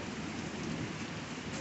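Hailstones falling outdoors in a storm, a dense unbroken rattle and patter on nearby surfaces, steady in level for the whole short stretch.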